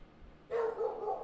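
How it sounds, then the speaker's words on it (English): A dog barks during a livestream, a sudden sustained yelping bark that starts after a quiet moment and carries on at moderate distance, alone without talk. "And Georgia's barking."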